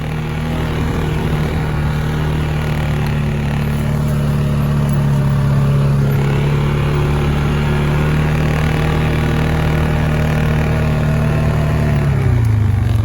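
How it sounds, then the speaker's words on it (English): A four-wheeler ATV engine drones steadily while driving, a loud, close, continuous motor hum that holds an even pitch before dropping slightly near the end. "I'm driving the four-wheeler because she likes to run and play"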